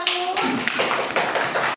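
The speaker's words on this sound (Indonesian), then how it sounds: "Tepuk tangan untuk kelompok 1." Classroom clapping for a student group, a short burst of several children's hands clapping in uneven rhythm, with a brief voice at the start before the claps.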